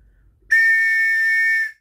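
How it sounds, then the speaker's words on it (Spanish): A single steady, shrill toy train whistle blast sounds for just over a second after a moment of near silence, bright and close. "vamos a, dar el silbato ferroviario"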